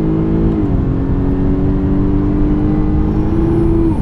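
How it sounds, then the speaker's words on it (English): The supercharged engine of a 2016 Jaguar XF 35t R-Sport RWD pulls hard under acceleration, a loud steady drone with a rising supercharger whine layered on top, no voices present. "you do get a little bit of sense of like, you know, a little bit of wind up from the supercharger"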